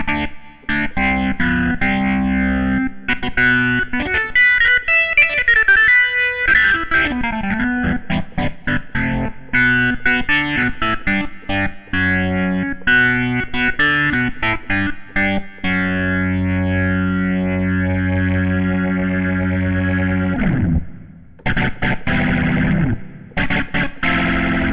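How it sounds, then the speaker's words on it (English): A Ferrofish B4000+ clonewheel organ module with its drive effect plays gritty sustained chords with choppy rhythmic bursts and gliding pitch, loud and upfront, cutting out briefly near the end. "Then you have the normal drive effect."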